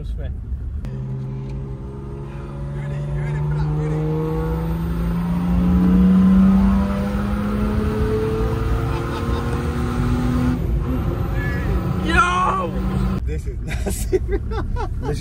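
A lifted Land Rover on off-road tyres with a swapped Mercedes OM606 diesel engine of about 500 bhp accelerating: a steady rising engine drone climbing in pitch over several seconds, with men chatting excitedly over it.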